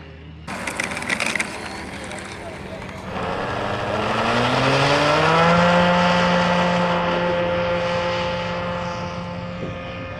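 A small engine buzzes into life after a sharp clatter, its pitch rising then easing as a model biplane passes close and loud, then recedes.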